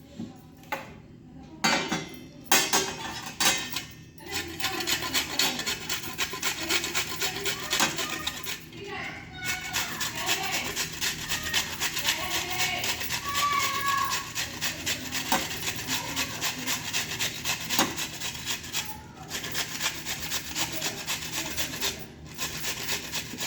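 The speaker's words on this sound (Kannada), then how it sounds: "ಈ ಹೆರಮಣಿಲೇ ಇದನ್ನು ಹೆರ್ಕೊತೀನಿ." Steady rough scraping with a traditional heramane grater, a continuous rasping, rubbing texture with occasional metallic clinks, close and moderately loud, with a voice speaking at times.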